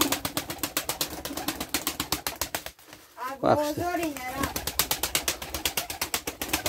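Pigeons in a coop coo in a steady, pulsing rhythm, with one louder, close throaty coo in the middle, while someone briefly speaks in Turkish nearby.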